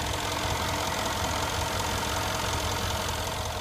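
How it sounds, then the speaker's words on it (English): A Mercedes-AMG engine runs with a steady, dense rumble, a continuous idle-like drone with faint knocking texture and no voices. "Beautiful engine."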